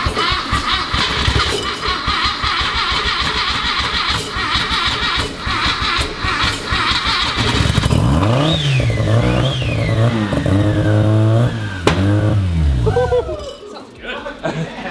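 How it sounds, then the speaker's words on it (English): A Volkswagen Super Beetle with a swapped 13B rotary engine, turbo and full exhaust bolted up cranks, catches and settles into a loud, rough, buzzing idle with a few blips of revving, close by, as people talk. "this is a start with the full exhaust bolted up"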